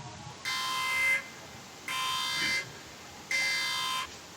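Electronic alarm tone sounding in three evenly spaced bursts, each a loud sustained buzzing beep about a second long with brief silences between, alone with no voices.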